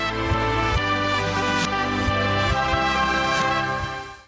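Bright, sustained synthetic trumpet tone in a 1980s production style, loud and alone, held notes over a pulsing low beat that fades out at the end.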